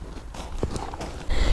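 A horse's hooves clip-clop at a walk during in-hand groundwork training, several close, uneven steps on firm ground followed by a louder burst of noise at the end.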